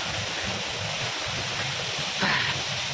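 Palse waterfall at Tamhini Ghat rushes as a steady broadband roar, continuous and even throughout, with a brief extra splash or rustle near the end.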